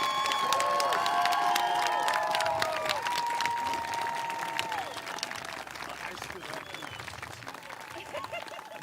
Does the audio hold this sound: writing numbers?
no